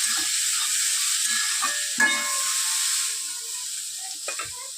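Food frying in a home kitchen pan gives a steady bright sizzle with a few light utensil clicks and scrapes, close and continuous, with no talking.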